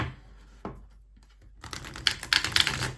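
Tarot cards are drawn and shuffled from a deck, one soft flick near the start, then a burst of quick papery slaps and riffles building up at the end, close and fairly crisp with no voices.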